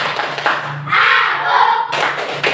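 Children in a classroom perform a rhythmic hand-clapping chant, claps and taps sounding in a steady pattern alongside sung or chanted voices, fairly close and loud.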